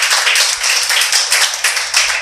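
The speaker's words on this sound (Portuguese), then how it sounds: "As palmas louvam e engrandecem em nome de Jesus." Congregation clapping hands together in a church service, a dense, steady run of many overlapping claps filling the space at close range for a couple of seconds, with no talk.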